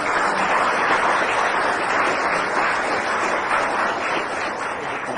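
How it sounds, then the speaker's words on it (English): A studio audience at a radio comedy panel show gives steady, dense applause that holds at an even level throughout, with no talking over it. "Can we have applause for all those teams?"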